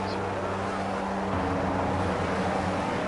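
Racing cars on the starting grid at the Austria round of the GP2 racing video game, revving together in a steady, dense engine drone that holds throughout with a slight shift in pitch partway through.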